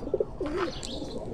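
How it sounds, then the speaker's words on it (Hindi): A Kuwaiti teddy pigeon gives a brief, soft coo close by over low background noise, with no talking. "ये भी इनपुट वाला कबूतर है"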